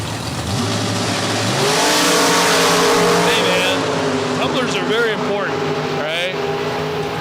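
Dragster race car at a drag racing event, its engine revving up and surging loud with rising pitch, then holding a heavy roar, while people talk over it.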